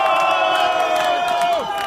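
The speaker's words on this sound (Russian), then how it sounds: "Під аплодисменты!" A crowd at a street rally cheering and shouting together in a dense, continuous roar of voices, loud and close throughout.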